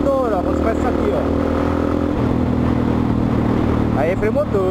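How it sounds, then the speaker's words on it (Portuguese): A motorcycle engine rumbles steadily at close range with a low, even drone during engine braking, while a voice talks over it throughout. "Aí é freio motor."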